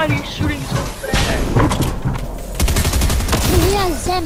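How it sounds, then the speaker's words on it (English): A rapid, dense burst of automatic gunfire from a hacking player in an online shooter game, loud and close and firing almost continuously, with excited voices talking over it. "Oh my god, he's shooting so fast."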